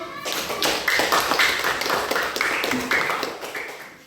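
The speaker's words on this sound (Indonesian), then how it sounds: "kasih aplaus dulu" Applause in a classroom, a brief burst of many hands clapping together, quick and uneven, fairly close and moderately loud for a few seconds.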